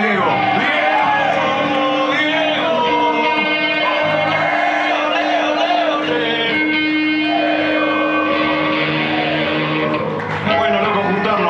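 Crowd at an outdoor benefit festival concert shouting and cheering loudly and continuously, with music and amplified voices blended into the dense, steady roar.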